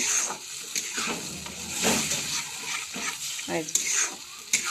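Spinach stirred and bubbling in a pan, with wet sizzling, soft spoon scrapes and stirring sounds rising and falling close by, and a couple of sharp clinks near the end.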